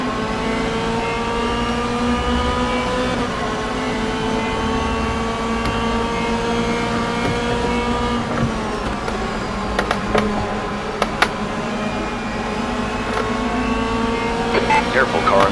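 DTM race cars in rFactor 2 roar around Silverstone, a steady high engine drone with shifting revs as cars run close alongside, continuous and loud throughout with brief sharper crackles near the end.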